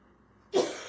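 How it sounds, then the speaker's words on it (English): A single dry, non-productive cough bursts out close by after a near-silent moment, sharp at onset and trailing off as a breathy rasp. "my chest hurts when I cough."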